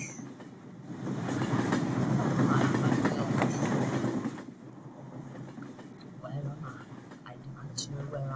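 A train in a Roblox game rolls on its rails with a low rumble and rhythmic clatter that swells to a peak midway, then drops to a quieter ride while people talk.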